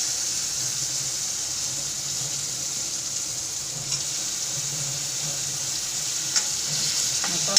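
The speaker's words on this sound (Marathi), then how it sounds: "परतून घ्यायचं थोडंसं तेलामध्ये द्यायचं" Steady frying sizzle of moringa drumstick pieces sautéing in a little oil with spices for a mung dal dish, a continuous close hiss with faint stirring clinks and no talking.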